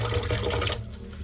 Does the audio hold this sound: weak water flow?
yes